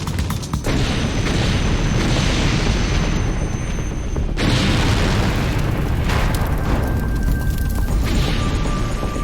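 Barrels of volatile chemicals exploding in a sustained, roaring blast, with loud continuous rumbling and crackling throughout and a fresh burst partway through, heavy and close.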